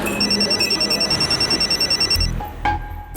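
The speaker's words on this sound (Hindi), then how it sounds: "रमेश विश्वकर्मा? हाँ जी बोल रहा हूँ।" A telephone bell rings in quick repeated trills for about two seconds, fairly loud and close, then stops abruptly before a brief handling noise.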